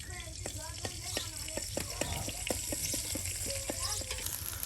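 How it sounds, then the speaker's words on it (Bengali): Cumin, garlic and bay leaves frying in oil in a village kitchen, a steady crackling sizzle with irregular sharp pops throughout, close and continuous. "আর এই যে দেখুন জিরা রসুন দিয়ে তেলটা তেজপাতার সাথে ভেজে নেওয়া হচ্ছে।"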